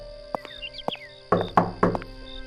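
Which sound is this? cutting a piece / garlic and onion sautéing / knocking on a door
knocking on a door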